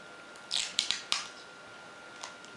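Adhesive tape being pulled and handled while securing a hand-wound loudspeaker voice coil, a few sharp crackling rips in quick succession followed by a fainter one, close and quiet, with no talking.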